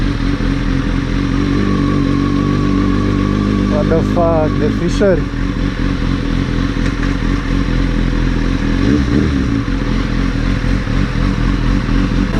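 A motorcycle with a new exhaust idles loudly and is revved in sharp bursts, with rattling mechanical clatter and a voice speaking briefly in Romanian over it.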